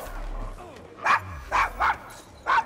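A dog in the video game Assassin's Creed Syndicate, set in Victorian London, barks four times in short, sharp yelps spaced about half a second apart, close and loud over a low background rumble.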